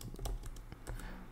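A short run of keystrokes as a terminal command is typed on a computer keyboard, with a few close, distinct clacks in a brief irregular burst and no voice.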